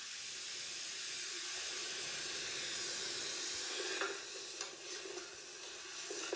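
Minced garlic sizzles in hot oil inside an Instant Pot, a steady bright hiss with a few scraping stirs toward the end, close and continuous with no talking.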